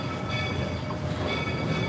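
A Colorado tourist train rumbles at Devil's Gate Station in Georgetown, a steady dense low roar of rail cars close by with no break through the moment.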